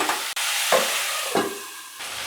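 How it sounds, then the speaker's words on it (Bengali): Potatoes and beans frying in oil in a pan for a Bengali fish curry, with a loud, close sizzle and a few scraping stirring strokes. "এখন একটু এটা ভাজা ভাজা করবো, সাঁতলে নেবো।"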